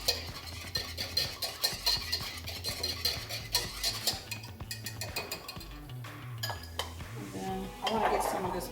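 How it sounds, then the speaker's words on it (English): Metal whisk stirring milk into a cheese sauce for mac and cheese in a pot, giving repeated clinks and scraping strokes against the pan in a steady rhythm, close and fairly loud throughout. "Use my whisk here."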